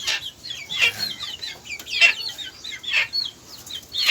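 Chickens in a small poultry farm cluck and chirp in short repeated bursts, several birds close by, with quiet gaps between the calls and no talking.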